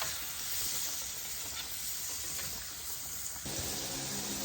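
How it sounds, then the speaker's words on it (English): Flour and fat browning in a pan next to frying steaks give off a soft, steady hiss and sizzle, faint and constant, with a slight shift in tone partway through. "we're also browning some flour and fat here, which is going to serve us here later for making our gravy."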